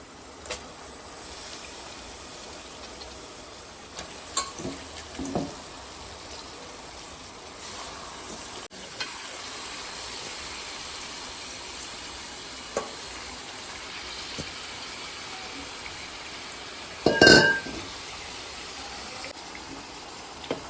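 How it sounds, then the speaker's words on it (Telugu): Mutton frying in hot oil with fried ginger for a simple mutton curry, giving a steady low sizzle throughout with a few stirring scrapes and a louder clatter near the end. "అల్లం వేగిందండి ఇప్పుడు మటన్ ఎత్తన్నా"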